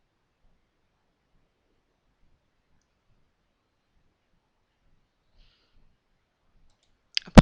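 Two sharp clicks from a computer mouse close together at the very end, after a long stretch of near silence.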